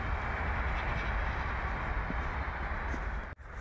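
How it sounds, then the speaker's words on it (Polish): A passenger train bound for Kraków passes in winter near Katowice Zawodzie, a dense, steady roar of wheels and carriages filling the whole clip, close and loud, cutting off abruptly near the end. "Mamy pociąg osobowy do Krakowa"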